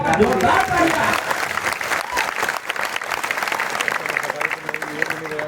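Steady, dense clapping fills the space as an audience applauds a poet at a recital in Rajakhera, with a voice briefly audible under the applause at the start.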